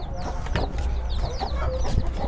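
Chickens cluck busily throughout, with a rooster crowing among them, steady farmyard noise close by.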